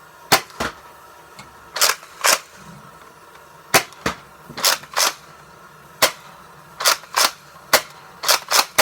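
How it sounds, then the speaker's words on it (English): Nerf Rival Helios blaster firing: a series of sharp, snappy pops, some single and some in quick pairs, spaced irregularly over several seconds, close and fairly loud over quiet background. "And put that with the Nerf rival of helios firing."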